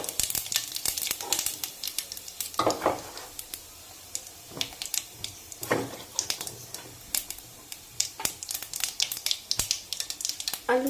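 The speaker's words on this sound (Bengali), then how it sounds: "এই তেলটাতে জিরা আর তেজফোড়ন দিয়ে দেবো।" Cumin seeds and bay leaf dropped into hot oil after frying fish for a Bengali fish curry, crackling and sizzling in sharp irregular pops and bursts, close and fairly loud, with no talking.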